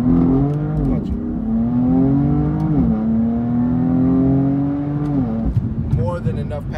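A carbon-fiber-trimmed BMW accelerates hard, its engine revving up through several gear shifts in rising and dropping sweeps, loud and close before easing off.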